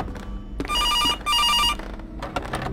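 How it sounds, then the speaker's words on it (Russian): An old-style telephone bell rings in a horror video game called CASE Animatronics, two loud, close bursts of electric ringing with a short gap between them over a low ambient rumble. "Опять какой телефон"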